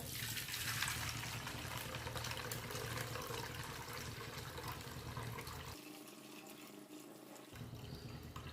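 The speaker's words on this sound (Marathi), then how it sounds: "हे पाणी आपण आता काढून घेणार आहोत अगदी हळूहळू" Soaking water is poured slowly off coarse pearl millet flour batter, making a continuous soft trickling and splashing stream that is fairly faint and steady, with a slight change in tone near the end and no talking.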